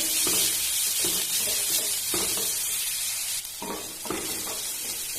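Onion, green chili and garlic frying together in a mustard-seed tempering for drumstick-flower bhaji, a steady close sizzle with occasional stirring scrapes of the spoon, no talk.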